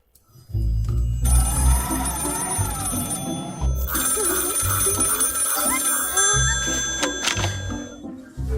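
A telephone rings during a call to a flight control tower, repeated ringing tones running steadily over a busy background with voices in the mix.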